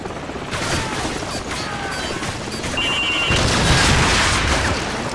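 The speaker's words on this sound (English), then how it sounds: "grab another Stinger and fire again" In Call of Duty Modern Warfare, a Stinger missile launches with a loud, continuous roaring rush that swells and grows stronger partway through, set against dense battlefield noise with no voices.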